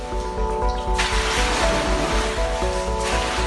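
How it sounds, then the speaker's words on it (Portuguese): Water in an indoor swimming pool sloshing hard and spilling over its edges as the high-rise building sways, a continuous rushing, surf-like wash with no voices. "A água da piscina coberta se movimenta com força."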